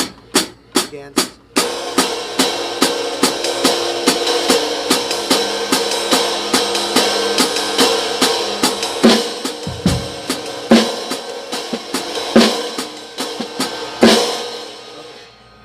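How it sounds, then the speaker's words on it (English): A hi-hat cymbal is struck in a steady, even rhythm, crisp and close, each hit ringing briefly, with a brief muffled word partway through. "the hi-hat would just sound like this"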